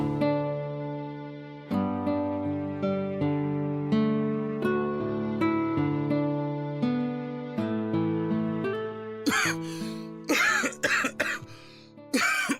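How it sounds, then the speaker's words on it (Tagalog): Gentle tonal music plays steadily, then a cluster of harsh, close coughs breaks out near the end, several in quick succession. "kanina pa ubo ng ubo yung pamangkin mo ha"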